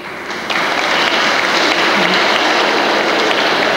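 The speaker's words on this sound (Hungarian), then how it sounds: "tagozatonként gratuláljunk tapssal a kitűnő tanulóknak" Steady, dense applause from the audience at a church-held school year-end ceremony honouring top-performing students, starting abruptly and continuing loud and even with no talk over it.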